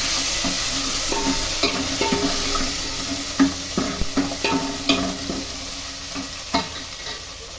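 Tempering sizzles in a pan as dried red chillies and coriander leaves are stirred in for curd rice, a steady fry with several sharp crackles and stirring scrapes, close and alone.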